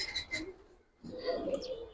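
Giribaz pigeons coo in two short, nearby bursts separated by a brief pause, with no talk over them.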